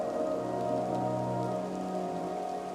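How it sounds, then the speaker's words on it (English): Steady rain pours onto a car's fogged windshield, a dense continuous patter of drops heard from inside the vehicle, fairly even in loudness throughout with no voices. "as the rain covers my fog windshield"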